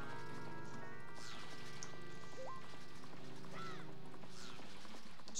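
Horse hooves clip-clop rhythmically in The Legend of Zelda: Majora's Mask, trotting over layered game music with a few sharp effect chirps and a brief neigh-like swoop, all at moderate, even loudness.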